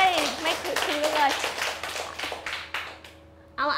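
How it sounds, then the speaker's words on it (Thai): Students in a Thai primary-school math class clap together for a classmate, a brief ragged burst of applause that overlaps the teacher's voice and fades out toward the end. "ปรบมือให้เพื่อนหน่อย"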